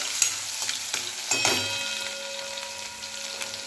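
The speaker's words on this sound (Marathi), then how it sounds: "तेल गरम झालेलं आहे याच्यामध्ये जिरे आणि मोहरी टाकून घ्यायचं" Cumin, mustard seeds and crushed garlic sizzle in hot oil, a steady close frying hiss with a few clicks and taps of a spoon in the pan and no voices.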